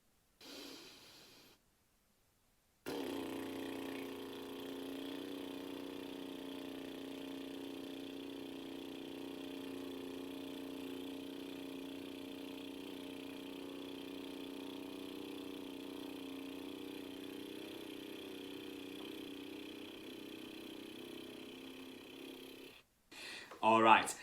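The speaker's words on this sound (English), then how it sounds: "We're going to have a lip buzzing competition." Long sustained lip buzz, blowing the lips for as long as possible in a school music assembly breathing challenge, a steady low fluttering drone held for about twenty seconds without a break.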